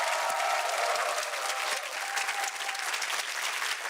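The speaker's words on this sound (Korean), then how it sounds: "다시 한번 박수로 좀 격려를 해주시고," Audience applause following an architect's lecture, dense continuous clapping from a sizable crowd filling the room, steady and loud throughout.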